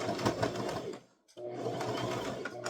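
A sewing machine stitches a toddler's crossbody purse in steady, fast runs, stopping briefly near the middle before starting again, close and continuous.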